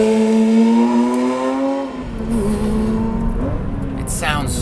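A 2024 Porsche 911 S/T engine revs hard and accelerates, a loud rising snarl that dips as a gear changes and climbs again, very close.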